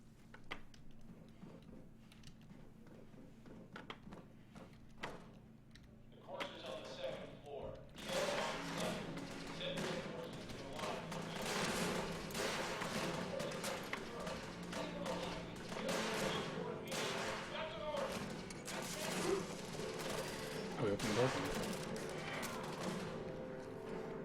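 Explosions and gunfire in Fallout 4, including a pistol and the Fat Man launcher, come in as a dense run of bursts and thuds after a quieter opening, with a voice talking over them.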